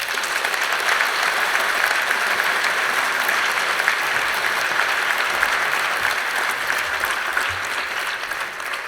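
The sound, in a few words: conference audience applauding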